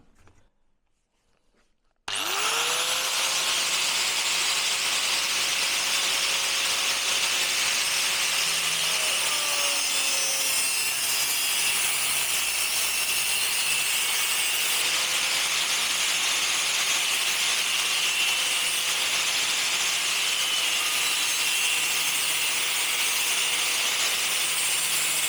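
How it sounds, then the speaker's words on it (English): Power tool cutting off excess metal from a motorcycle bobber part, starting abruptly after near silence and then whining steadily and loudly for over twenty seconds, a harsh, even grind heard up close with no talk. "I'm just going to chop the excess off to start with because I think it'll be easier to get the curve"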